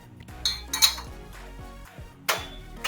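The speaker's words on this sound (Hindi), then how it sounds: "मैं दूसरे गैस पे इसे शिफ्ट कर लूंगी।" A pot of water with melted jaggery for bajra raab being shifted onto another gas burner in a home kitchen, giving a few sharp metallic clinks and scrapes with a low burner hum underneath.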